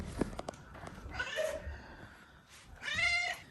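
A domestic cat meows close to the mic, several drawn-out plaintive calls separated by short pauses, with faint thumps and movement between them.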